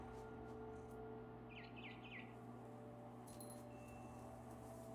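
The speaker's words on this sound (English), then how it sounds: "Then I heard chirping outside my window. It was a barn swallow going back to her nest." Barn swallow chirping in the video game What Remains of Edith Finch: three quick, faint chirps in a short burst over a steady low background hum, with no talk.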